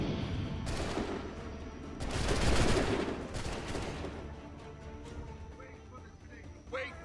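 Musket volleys fire in Assassin's Creed III: loud crackling bursts of massed gunfire swell and fade in waves, ending in lighter scattered shots, with faint voices underneath.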